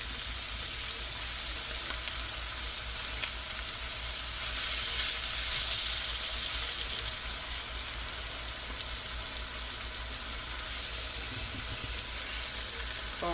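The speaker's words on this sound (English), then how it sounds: "Now we can deglaze it with some of this evaporated milk." Evaporated milk hits a hot pan while corn chowder is being deglazed, producing a steady sizzling hiss with stirring and a louder burst of bubbling partway through, heard close up with no talking.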